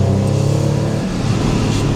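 A 600 hp BMW E46 M3 engine pulls hard under throttle, a loud, close, steady mechanical drone whose pitch shifts midway as the car accelerates.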